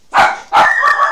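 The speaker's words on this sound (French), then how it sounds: "Comment vous dire que mes chiens se sont réveillés?" Two sharp, loud barks from pet dogs indoors ring out close by in quick succession, the second trailing into a short, higher yelp.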